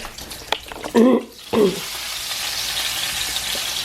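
Bacon frying in a pan gives a steady, close sizzle, with a few louder handling clatters and stirring noises near the start before the hiss settles into an even crackle.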